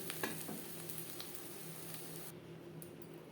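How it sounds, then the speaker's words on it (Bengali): Three beaten eggs frying together as an omelette in a pan give a steady, quiet sizzle with a few soft pops and scrapes, close and alone. "এখানে আমি তিনটে ডিম একসাথে অমলেট করছি"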